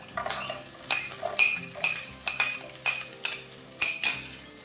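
Shallots being sautéed in a pan while cooking red cow peas thoran, with a spoon clinking and scraping against the pan in a regular rhythm over a faint sizzle.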